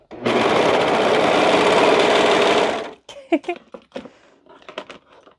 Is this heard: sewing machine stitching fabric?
yes